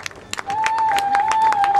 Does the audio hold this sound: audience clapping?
yes